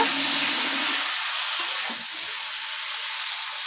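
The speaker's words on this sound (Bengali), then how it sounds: "এবার এই যে দেখো হলুদ রঙের ফুলকপি আর আলু একসঙ্গে দিয়ে সুন্দর করে সব কিছু ভেজে নিব" Yellow cauliflower and potato fry together in a pan just after duck eggs were fried, giving a loud, steady hiss that starts with a burst of sizzle and settles into an even frying sound, with no voices.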